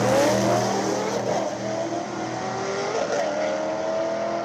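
Street racer class cars at a drag race, loud engines roaring and revving up through the gears as they accelerate down the track, a continuous high-volume drone with shifting pitch.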